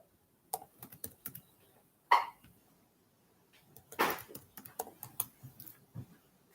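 Computer keyboard typing in scattered bursts of clicking keys, close and fairly quiet, with a couple of louder thumps or a cough-like burst in a quiet room.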